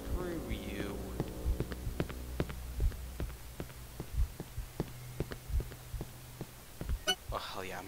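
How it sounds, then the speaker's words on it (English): Steady, muffled heartbeat thumps repeat at an even pace in the horror game Cry of Fear, with low hum and quiet whispery voices over it. "There's a heartbeat."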